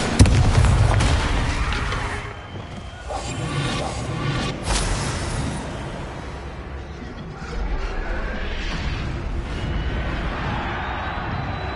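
Bombarda explosion spell in the Hogwarts Legacy video game, heard as a heavy booming blast followed by further rumbling bursts and crackling debris over several seconds, no speech.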